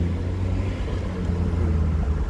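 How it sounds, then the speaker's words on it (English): A red BMW car passes close by on the road, a steady loud engine and tyre rumble that holds level through the whole stretch, heard from beside a parked Daihatsu Copen. "this BMW, the red one, just passed me."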